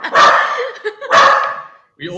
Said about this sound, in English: She started barking.